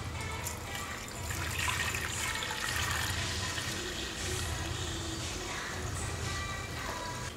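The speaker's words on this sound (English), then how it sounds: "let's go ahead and pour this back in." Clarified wood-ash lye water pours steadily back into a container for soap making, a continuous close splashing and trickling of liquid that holds for several seconds with no talking.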